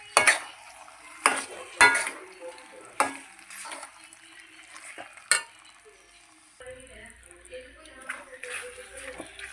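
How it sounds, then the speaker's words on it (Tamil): A spoon scrapes and clinks against a pan while chicken fries and stirs, sharp close knocks over a faint sizzle, with a low background murmur. "நல்லா மிக்ஸ் பண்ணிவிடுங்க."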